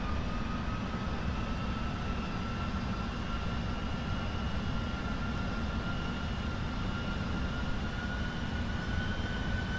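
PMDG 747-400F freighter on final approach in a flight simulator, gear down and flaps 30, with a steady loud low engine and wind rumble and faint tonal whines holding constant throughout, no talk.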